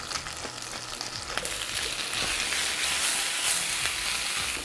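Greens and green garlic sauté in canola oil with a steady, close sizzle that grows louder and denser after the first second, broken by a few soft stirring scrapes.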